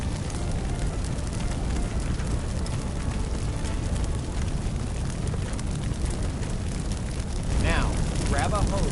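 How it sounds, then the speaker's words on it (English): A loud, steady roar of crackling flames fills the scene in a PS5 firefighting simulator game, continuous throughout, with a few brief whistling tones near the end. "just watch the fire spread. Notice how fast it jumps from object to object."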